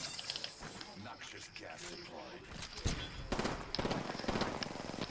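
Rapid gunfire crackles in a squad-based shooter video game, dense bursts of shots layered with game effects and busy background noise, growing louder toward the end while players talk over it.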